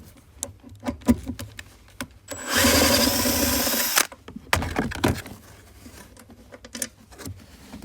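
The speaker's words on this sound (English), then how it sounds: "I can actually get in there with a power drill, and using my 12mm socket" A power drill fitted with a 12mm socket runs in one steady whirring burst of about a second and a half to remove a bolt from a Toyota Camry airbag module, framed by close clicks and knocks of handling.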